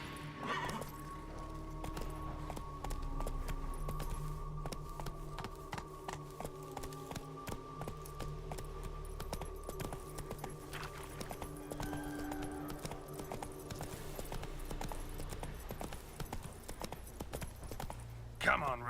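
Roach the horse in The Witcher 3 clip-clops along with steady hoofbeats, set against game music and ambience, with a voice speaking over it.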